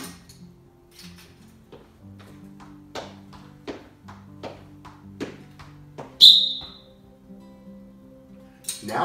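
One short, piercing whistle blast from a teacher cuts through a school gym soccer warm-up, following a run of steady ball taps as children trap balls with their feet.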